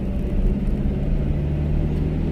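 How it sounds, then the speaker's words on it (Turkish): A car pulling away gently in traffic after the brake is released, giving a steady low engine rumble and road hum close by without interruption. "Hafifçe gaza basıyorum. Araba ivmelendi."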